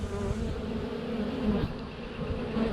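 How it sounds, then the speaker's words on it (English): A dense swarm of honeybees buzzes steadily around an opened hive during an early-season inspection, a continuous close drone with individual bees passing near. "a lot of bees flying"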